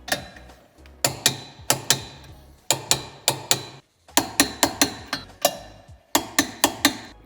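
A wrench ratchets rapidly while tightening 12 mm tow hitch bolts on a 2015 BMW 2 Series Gran Tourer F46, sharp repeated metallic clicks in quick bursts with brief pauses, close and loud.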